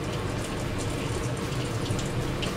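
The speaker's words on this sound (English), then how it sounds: "Quarter cup of water into strawberries." Water pouring steadily into a container of strawberries, a quarter cup at a time, while baking cinnamon rolls, with a continuous close splashing trickle and no talk.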